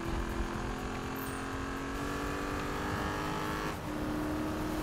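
Engine of a Dodge Challenger in Need for Speed drifting sideways, a steady loud roar with continuous engine drone and tire noise, briefly dipping near the end.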